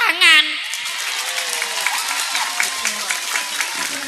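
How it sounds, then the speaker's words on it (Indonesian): An audience claps steadily at a Ramadan night religious gathering, with a continuous patter of applause and a crowd murmuring, while a voice speaks over it at the start. "tepuk tangan."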